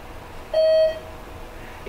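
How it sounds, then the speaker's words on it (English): Single electronic beep from a ThyssenKrupp hydraulic elevator's Synergy fixtures, a clear steady tone lasting about half a second over a quiet background hum. "that's where the beep comes through"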